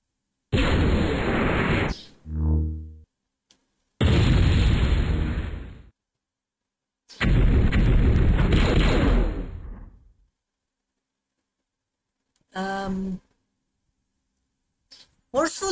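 Forceful air gun attack in the MechQuest video game: three loud, broadband blasting bursts, each lasting a second or more, separated by short pauses and followed by a brief, sharper hit near the end.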